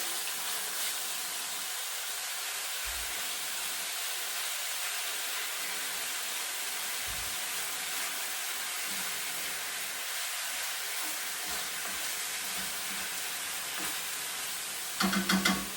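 Tofu frying in a pan gives a steady, even sizzle that carries on throughout at moderate volume, with a few faint clinks in the background.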